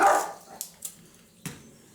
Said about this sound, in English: Dog's barking at the birds